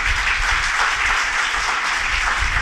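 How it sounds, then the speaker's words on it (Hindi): Applause from an audience at a motivational speech, a dense, even wash of many hands clapping together, moderately loud and continuous throughout, with no talk over it. "इसमें ताली बजाने की कोई बात नहीं है"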